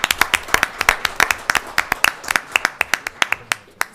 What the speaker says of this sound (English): Give you another round of applause and take this picture with you.